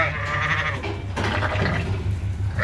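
A Suffolk ewe with her lamb bleats nearby in a farm barn, a drawn-out wavering call heard close and loud over low background noise.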